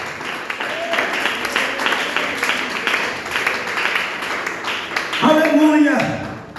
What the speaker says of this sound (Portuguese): Aplauda Jesus nessa noite.